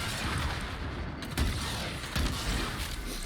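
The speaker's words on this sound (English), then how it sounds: "Ah, someone's shooting at me. It's over here. These missile turrets." Missile turrets in Warframe fire on the player, producing bursts of heavy booming impacts and rumbling blasts over a dense, noisy combat background, with two strong hits standing out.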